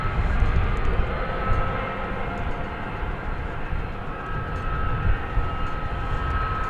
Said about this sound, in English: Luke alerts us to that MD-11